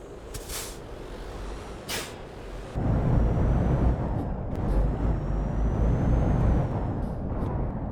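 Air brakes hiss in short bursts from a truck in a trucking video game set on desert roads, then a loud, steady engine rumble rolls past up close, with no talking.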